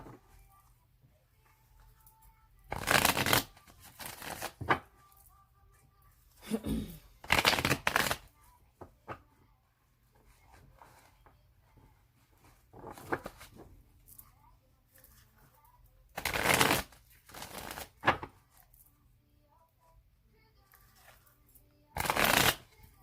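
A deck of cards being riffle-shuffled several times, each burst a quick rapid flutter of snapping cards separated by quiet pauses, close and clear.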